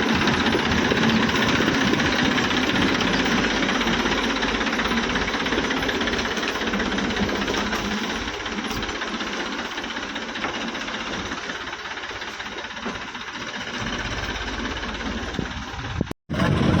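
A farm tractor hauling a load of fertilizer along a field track, its engine running in a steady, loud, rough chug with rattling throughout and no talk, ending in a brief cutoff near the close.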